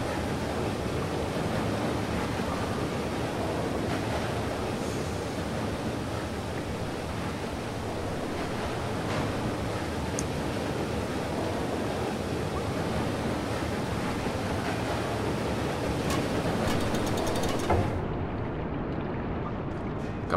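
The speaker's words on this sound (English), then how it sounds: "there's coming water here" Water rushing in within the video game Limbo, a steady broadband wash like surf that fills the whole passage and cuts off sharply near the end, with no talk over it.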